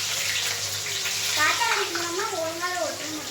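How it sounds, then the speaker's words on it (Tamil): Fennel seeds and fenugreek sizzle in hot oil in a home kitchen, a steady bright crackling hiss throughout, with a voice talking over it partway through. "எண்ணெய் காஞ்சிருச்சு இப்போ நம்ம வந்து சோம்பு வெந்தயமும் போட்டாச்சு"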